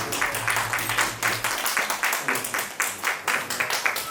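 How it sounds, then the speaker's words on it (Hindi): Audience clapping to welcome a guest at the opening session of an annual poetry festival in Prayagraj, a steady rhythmic patter with a faint hum beneath. "आप सभी तालियों के साथ स्वागत करेंगे"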